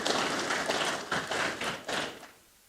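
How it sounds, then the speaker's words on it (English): Audience applause at a Kenya Secondary Schools Heads Association annual convention during a gift presentation to a guest and sponsor; a dense, moderately loud patter of clapping swells in several waves before fading out. "A round of applause as we gift our guest and also our sponsor."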